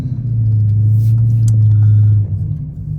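A Dodge Challenger R/T cruises at night, its engine a steady, loud low rumble that holds evenly for about two seconds, then eases slightly before settling again; no talking.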